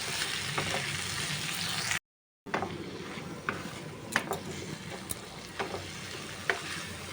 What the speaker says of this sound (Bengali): আলু বেগুনটা পেঁয়াজের সাথে একবারে একটু নাড়াচাড়া করে মিশিয়ে নেব। একটুখানি সামান্য ভাজা ভাজা হতে থাকুক।